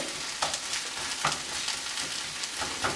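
Hash browns fry in a pan at home, giving a soft continuous sizzle with a few faint scraping stirs at intervals, nearby and with no voices.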